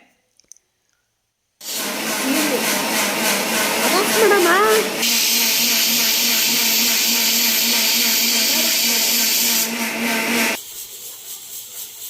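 A mixer grinder runs steadily for about nine seconds, grinding soaked chickpeas and coconut in its jar, a loud continuous whir that changes pitch partway through, with a brief voice near the start before the motor settles.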